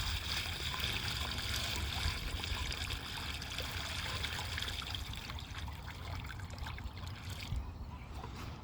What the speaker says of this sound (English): once your berm is complete, fill this guy up with water.